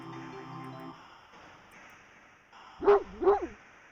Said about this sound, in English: A series of excited barks jerks your gaze forward, and you see a large dog sprinting toward you.